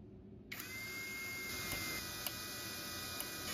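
A small electric screwdriver or drill whirs steadily as it drives screws into the bottom cover of an LCD vacuum separator machine, starting abruptly and running close and continuous with a few faint clicks.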